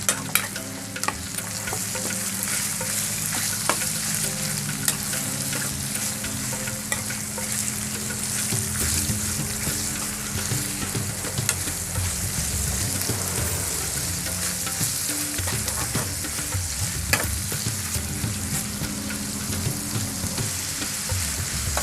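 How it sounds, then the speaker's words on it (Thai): Pork dry-stir-fries in a pan for northern Thai nam prik ong, giving a loud, continuous sizzle with constant scraping and clattering from the stirring utensil throughout. "คั่วหมูให้สุกครับ"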